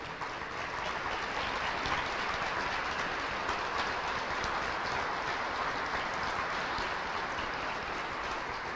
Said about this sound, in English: Let's give them a round of applause, all the ownership group.